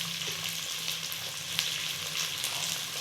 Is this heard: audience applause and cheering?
no